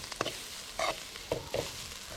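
Grated coconut with a little turmeric powder fries in a hot pan, giving a soft, steady sizzle broken by a few quiet scraping stirs, heard close and alone.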